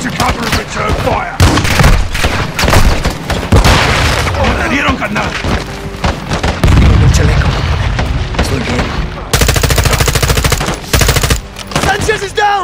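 Heavy automatic gunfire and booming shots in Call of Duty Modern Warfare 2 during a firefight in Mexico, with rapid bursts crowding the whole stretch, loud and close, a dense sustained volley near the end, and shouted voices in between.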